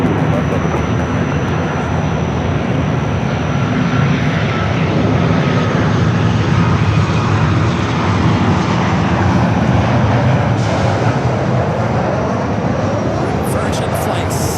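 A fixed-wing airliner takes off at Los Angeles International Airport, its engines a loud, steady broadband roar that fills the whole stretch and swells slightly midway as it accelerates down the runway.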